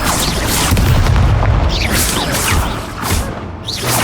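Confringo spell blasts in Hogwarts Legacy gameplay, a loud deep boom rolling into crashing bursts and swooshes over a dense rumbling battle, with no talk.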